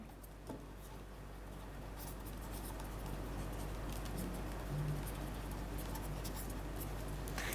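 A name is written on paper with a soft, continuous scratching of pen strokes, close and quiet, over a faint background hum.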